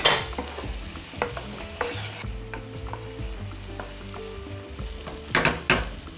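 Carrot sticks hit a pan of softened onion and are stir-fried, with a continuous close sizzle, scraping stirs and a few sharp clatters near the end, with no talking.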